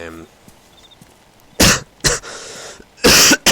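Three sharp, loud coughs, close by, with short pauses between them and quiet in the gaps.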